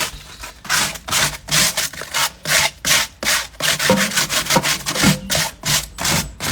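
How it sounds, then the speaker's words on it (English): Scrunched-up aluminium foil scrubs cast iron searing grids on a Big Green Egg grill in quick, even back-and-forth strokes, close and alone, about two strokes per second. "if you've not used your cast iron searing grids since last season, get some foil, scrunched up foil."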